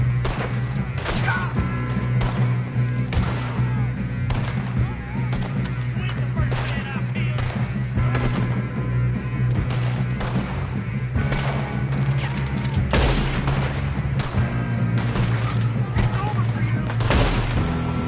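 Gunfire in a Red Dead Redemption 2 shootout, with dense rapid shots and crashes packed together, loud and continuous, while voices talk over the fighting.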